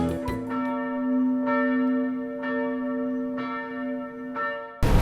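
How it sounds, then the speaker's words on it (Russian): Church bells ring from the St Nicholas bell tower in Perast, Montenegro: strong sustained tones with fresh strikes roughly once a second, close and resonant, with a sharp knock at the very end. "Не поленитесь подняться на колокольню Святого Николы"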